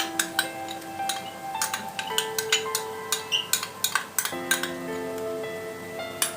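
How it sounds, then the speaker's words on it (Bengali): Ginger-garlic paste is sautéed in a pan for Bengali pomfret fish curry, with a metal spatula clinking and scraping in an irregular rhythm, close and clear with no talk. "এবার এইটা দিয়ে আবার আমাদের কিছুক্ষণ এটাকে কষতে হবে"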